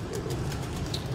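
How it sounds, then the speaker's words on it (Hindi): Pigeons cooing at a pigeon keeper's home loft in Sialkot, a soft low continuous murmur of coos close by with no talk over it. "दोस्तों, बहुत ही हसीन कबूतर।"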